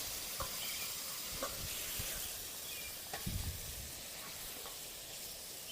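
Prawns and onions sizzle and hiss steadily in a hot pan during village-style cooking. The crackle stays constant, with occasional soft clicks and a brief scraping stir near the middle.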